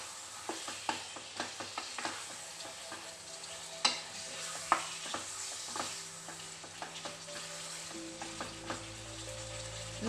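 Chicken pieces with turmeric fry and are stirred in a pan for a ghee roast, giving a soft steady sizzle broken by regular scraping stirs and clacks of the spoon, close and alone.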